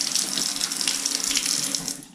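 Steady stream of water running from a touch kitchen faucet into a farmhouse sink, continuous and close, with no voices.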